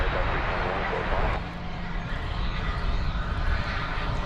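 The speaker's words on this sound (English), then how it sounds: "Let's see if we can guess where this MD-11 is going to go." A McDonnell Douglas MD-11 jet at DFW Airport in the evening sounds as a steady, broad roar of engine noise that fills the whole clip. It holds at an even loudness and dips slightly partway through.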